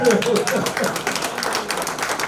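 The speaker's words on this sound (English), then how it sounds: "Let's give Tim a round of applause." Round of applause at a coin banquet, steady clapping from a seated crowd running throughout, with a voice briefly heard over the start.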